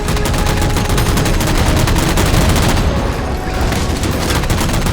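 Gunfire in the video game Halo 4 as jammers are shot down: relentless, loud automatic fire with heavy booms packed tightly together, forming a continuous barrage at near-constant intensity throughout.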